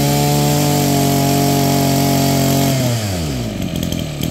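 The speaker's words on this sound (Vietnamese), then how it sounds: "Giật cho cô chú nghe tiếng nổ luôn." A small two-stroke grass trimmer engine, pull-started, running loud and steady with a high buzzing whine, then dropping in pitch as it winds down toward the end.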